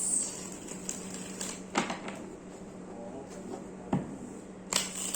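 Tarot cards being shuffled indoors, a steady soft riffling and papery rustle with a few sharper slaps of the deck, moderately quiet and continuous with no talking.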